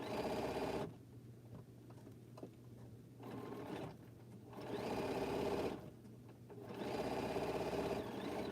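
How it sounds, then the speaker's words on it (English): Domestic sewing machine reverse stitching jelly roll quilt blocks, running in three steady bursts separated by short pauses, close and clear with no talk. "Eyeball into the corner and back stitching"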